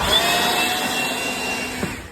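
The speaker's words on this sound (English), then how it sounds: "I'm pretty impressed with this leaf blower." A handheld leaf blower runs steadily with a loud, even whine and rushing air, close by, holding constant for a couple of seconds before easing slightly, with no talk.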